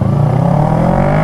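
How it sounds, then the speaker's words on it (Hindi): Honda CBR 650R motorcycle engine running loud and close, a steady rising drone with the pitch slowly climbing as it revs, no talk. "time to ride the CBR 650R, अपने बीस्ट को चलाने का टाइम है"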